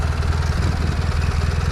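A Briggs & Stratton engine on a ride-on mower idles steadily in neutral, a close, continuous low throbbing rumble with even pulsing and no voices over it.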